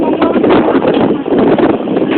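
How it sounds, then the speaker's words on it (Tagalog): Strong wind blows over a backyard fire outdoors, a loud, steady roar with gusty buffeting on the microphone throughout. "Yung hangin pa naman papunta sa atin."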